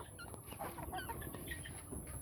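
Chickens clucking in a farmyard, several birds giving short, overlapping clucks and calls at close range throughout, with no talking.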